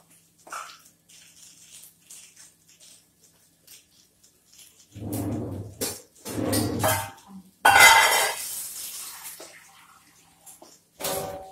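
Milk and water pour into a bowl of flour and oil in a few separate splashy bursts, close and fairly loud, with clinks of kitchenware between pours and no speech.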